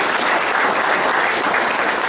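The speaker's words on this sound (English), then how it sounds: "Let's give everybody a round of applause." Convention audience at an auction event breaking into dense, loud applause, continuous clapping from many hands with no pauses.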